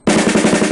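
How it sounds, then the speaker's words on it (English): An open bounce on a snare drum, played as part of a long roll rudiment: a rapid, even stream of doubled strokes, close and fairly loud, lasting under a second. "into an open bounce,"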